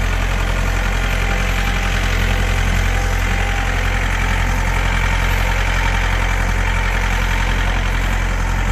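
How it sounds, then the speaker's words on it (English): A tractor engine idles steadily and loudly at close range during a firewood-cutting job, a continuous low rumble with a faint knocking texture and no voices. "Move the tractor out of the way so we get this other."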